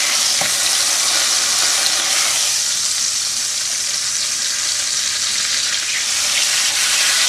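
Food frying in a pan for a carb-free breakfast, a steady close sizzle and crackle with faint spatter that holds at an even level throughout, no voices.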